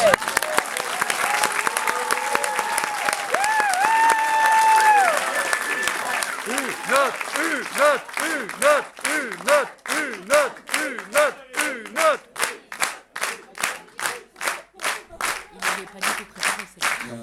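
Audience applause at a live comedy show, starting as dense clapping with cheering and a sung melody over it, then thinning into loud rhythmic unison clapping in steady beats.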